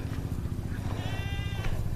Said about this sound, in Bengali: মাঠে এখানে ছাগল চড়ছে।